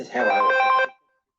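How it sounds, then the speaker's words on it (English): A mobile phone's ringtone goes off indoors: a single short melodic burst, close and fairly loud, under a second long, with no talking over it. "phone's going off. I should put it on silent."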